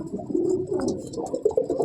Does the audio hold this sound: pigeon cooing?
yes